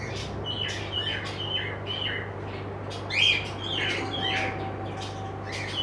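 Giribaj pigeons in a pigeon shop give repeated short chirps and calls over a steady low hum, with one louder call in the middle.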